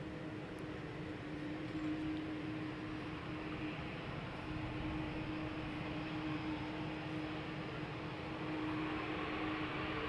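An Air Europa Boeing 787-9 Dreamliner departs Amsterdam Schiphol for Madrid, a continuous distant engine roar with a faint steady tonal whine running throughout.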